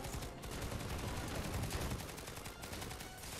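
Rapid automatic fire from a T1 Cycler in Planetside 2, with dense continuous shots and brief gaps in a steady burst across the whole stretch.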